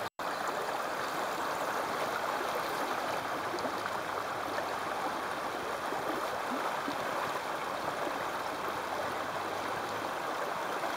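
Moonan Brook near a forestry hut on a freezing morning, a steady broadband rush of flowing stream water that stays constant and fairly loud throughout, with no voices.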